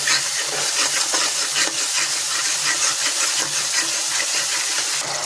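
Mustard and poppy seed paste sautéing in hot oil, a steady loud sizzle and hiss with soft stirring scrapes running continuously.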